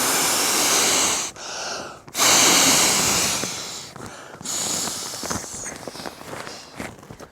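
Two long, forceful breaths rush into an inflatable camping pillow, close and loud, each cut off by a short pause, followed by quieter rustling and handling noise.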